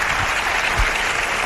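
Brief applause from a studio audience on a Spanish-language radio programme, a dense burst of clapping with low thumps, fairly close and with no talking.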